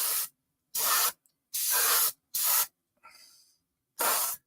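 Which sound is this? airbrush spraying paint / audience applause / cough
airbrush spraying paint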